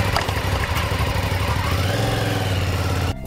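An Aprilia Shiver 750 two-cylinder motorcycle engine runs steadily at a low, throbbing idle, loud and close, then cuts off abruptly near the end.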